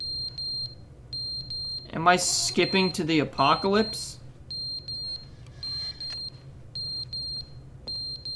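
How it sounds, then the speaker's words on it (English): In the video game The Stanley Parable, an electronic alarm sounds in clusters of rapid high-pitched beeps that repeat at regular intervals. Someone speaks over the middle of the clip, and the beeping goes on before and after him. "What is that beeping noise?"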